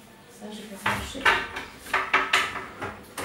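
Dishes, pots and cutlery clatter and clink in a series of sharp, close knocks as a dishwasher is unloaded and items are put away in a home kitchen, with a few louder clanks among softer rattles.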